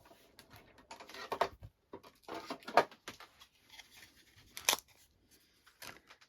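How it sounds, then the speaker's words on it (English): Scissors cutting paper for a large fold-over gift bag: a few sparse, crisp snips spread irregularly, fairly quiet and close. "Let me just quickly cut that."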